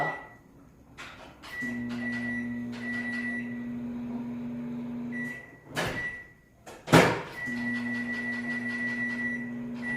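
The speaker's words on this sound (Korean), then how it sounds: "제가 전자레인지에 5분 돌렸어요" Microwave oven running with a steady low hum and a higher tone, interrupted by a couple of louder clunks like a door or cupboard, then humming on evenly.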